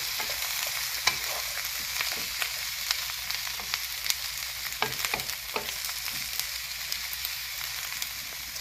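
Sauce of soy, salt, rice vinegar and sugar hitting a sizzling Szechuan cabbage stir fry in a hot pan, a continuous crackling hiss with scattered sharp pops and spatters, close and steady throughout.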